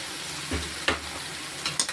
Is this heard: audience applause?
no